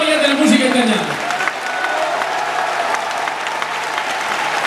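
Live audience applauds a singer, a broad, steady wash of clapping from a crowd with a voice speaking over it at the start.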